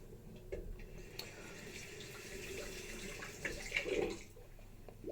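Hot water runs from a bathroom tap to warm a razor head before shaving, a steady close-up splashing stream into a sink with a brief louder gush near the end and no talk.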